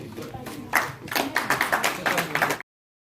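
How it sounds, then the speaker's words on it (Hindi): A small audience at a national meeting breaking into clapping, a short burst of distinct, fairly close hand claps in uneven rhythm for about two seconds before cutting off. "तालियां तो बनती हैं भाई"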